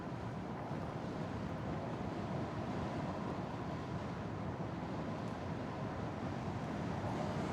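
Steady wind roars across the microphone while riding a Segway GT3 Pro electric scooter in sport mode, a constant broadband rush with no pauses and no talking.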